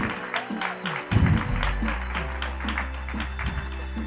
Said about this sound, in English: give a warm round of applause for Siete Family Foods CEO, Miguel Garza.